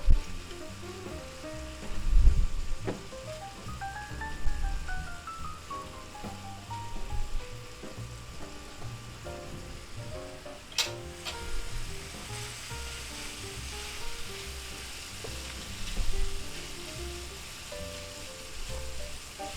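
Vegetables sizzle steadily in a pan for a breakfast omelet, a continuous crackling fry with occasional stirring clatter and soft music underneath.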